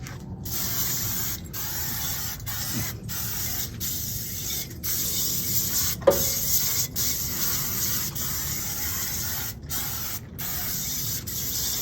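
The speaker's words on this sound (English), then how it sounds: "I'm just using my regular Grill Master spray for that." Grill Master spray hisses into the bowl of a copper Weber Performer grill in a series of close spray bursts separated by short gaps.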